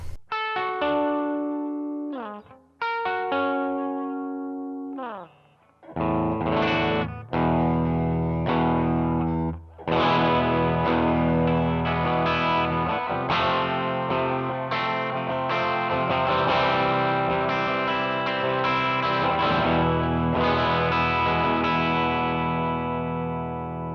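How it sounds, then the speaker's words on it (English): An electric guitar played through the bridge pickup on a clean tone: plucked notes and strummed chords ring out with long sustain, building from sparse single notes to fuller, loud chording. "This is the bridge pickup on clean."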